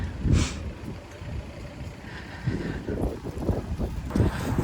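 Strong wind along Shevchenko Boulevard buffets the microphone in gusty, rumbling surges that rise and fall across the clip, with no one speaking.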